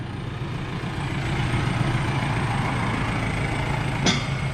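A lifted Nissan NP300 Navara pickup rumbles steadily with a low, continuous engine drone as it is driven out, with a brief sharp click near the end and no talking.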